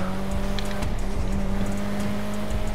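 A car accelerating in a GTA roleplay server, a loud, close engine revving with a steady rising drone and faint tire noise throughout.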